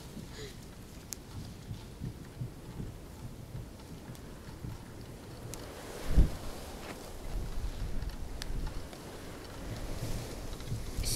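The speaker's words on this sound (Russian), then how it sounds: "Сегодня порывы ветра до 13 метров в секунду." Strong gusty east wind blowing at a house by the sea, a steady low rumbling roar with surging gusts and one sharper buffet near the middle, without talk.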